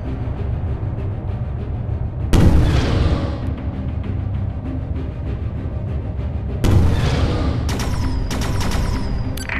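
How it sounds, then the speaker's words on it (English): A laser blast from a Hurin fighter in the space shooter Anshar 2 lands as a sharp broadband burst over a steady hum, followed by a second blast and a rapid pair of bright zaps near the end. "Shoot your first laser blast."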